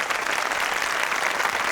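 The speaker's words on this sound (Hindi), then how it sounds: "क्या तालियां पे तालियां बजाए जा रहे हैं?" A crowd breaks into steady, dense clapping at fairly close range, with no voices over it.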